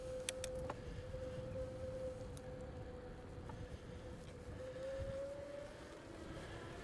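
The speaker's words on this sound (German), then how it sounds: "Und jetzt hören wir, ja, der Motor ist sehr leise." A DYU T1 20-inch folding e-bike's 250-watt rear hub motor runs quietly as a thin, steady electric whine above low background rumble, with a few faint clicks and no speech.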